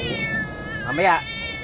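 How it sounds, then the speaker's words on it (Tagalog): A cat gives one clear, rising-and-falling meow near the middle, close and fairly loud, over a background of steady hum and faint voices. "Ang pusa, halika rito."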